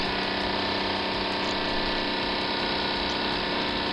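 A Mamod TE1A toy steam engine running at near its slowest speed, chugging at a rapid even rate, continuous and fairly loud with no voices.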